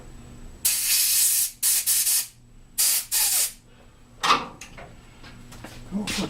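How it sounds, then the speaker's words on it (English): Compressed air blows out the carburetor of a Craftsman lawn mower with a Briggs and Stratton Gold Series 675 EX engine, in a run of short, sharp, close hissing bursts with brief gaps between them. "And I'll blow it out with air,"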